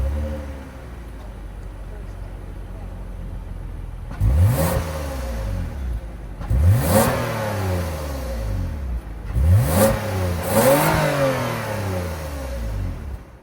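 A 2024 Toyota Camry XSE's 3.5-liter V6 idles with a low hum, then revs three times in spaced bursts, each climbing sharply and falling back to idle, close and moderately loud.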